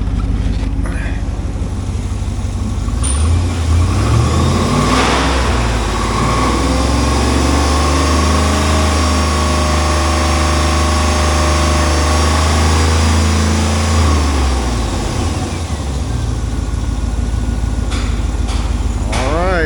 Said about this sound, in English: I'll let you listen to that motor